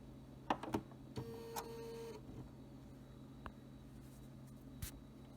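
Bernina 790+ sewing machine stitching a buttonhole, a faint brief mechanical whir lasting about a second amid scattered soft clicks and handling noises in a quiet room.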